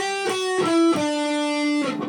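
Electric guitar plays a short melodic phrase, a few picked notes ringing into a long sustained tone, clean and close with no voices.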